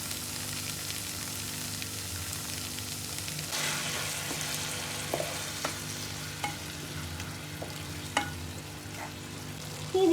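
Crispy potato roast being stirred in a pan after a splash of water, a continuous sizzling hiss with scattered spatula scrapes and clicks, close and unaccompanied by talk.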